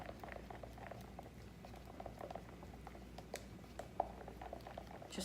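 Epoxy resin stirred in a cup for making coasters, giving a steady soft patter of small clicks and scraping ticks with faint bubbling, close and continuous with no talk.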